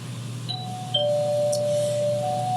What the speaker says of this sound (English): this ding dong, that just simply means that we're going on to the next exercise